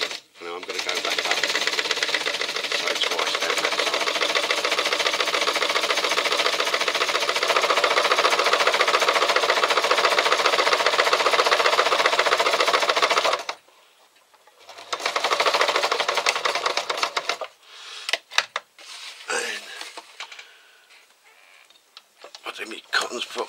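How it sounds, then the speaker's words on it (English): Sewing machine stitching a simple fabric pouch, a fast steady mechanical whir for about thirteen seconds, then a short second burst and a few clicks as the fabric is adjusted. "I'm going to go back up, sew twice down that side."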